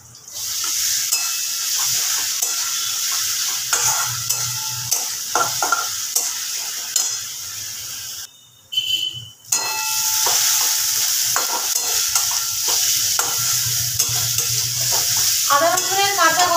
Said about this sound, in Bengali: গ্যাসটা কমিয়ে দিয়ে পেঁয়াজটাকে আমি একটু ভেজে নেব। এবার এর মধ্যে দিয়ে দেব 1 টেবিল চামচ আদা রসুন বাটা।